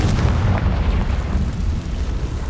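A Confringo fire spell bursts in Hogwarts Legacy, a loud, sustained booming blast with heavy low rumble and crackle that stays dense and roaring throughout.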